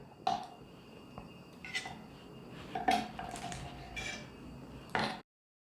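A knife trims the tips off octopus tentacles on a board, a handful of separate clicking taps and light metallic knocks spaced over a few seconds, close and fairly quiet.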